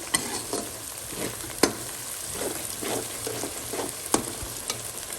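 Onion, garlic and ginger masala frying for a fish curry, a steady moderate sizzle with stirring scrapes and a few sharp clicks of a utensil against the pan, heard close with no talking.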